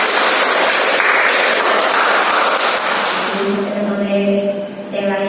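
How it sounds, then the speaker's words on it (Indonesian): A small counselling group in a room gives a burst of hand clapping, a dense steady patter that fades toward the end as a tonal hum comes in. "Ya, tepuk tangan untuk saya."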